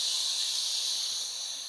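Two medium chopped tomatoes, added to a pan of garlic for a Tamil Nadu style sambar, set off a steady, bright sizzle that fades slightly near the end.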